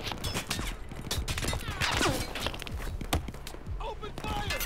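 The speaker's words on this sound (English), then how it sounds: "he's in a machine of some sort. Some kind of mounted gun" A mounted gun firing in the Battlefield 4 video game, rapid dense gunfire and thumps running throughout at steady loudness, with battle noise and speech mixed in.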